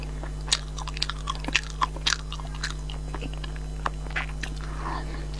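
Someone eats spicy food up close, with crisp crunchy bites and wet chewing sounds in scattered bursts over a low steady hum.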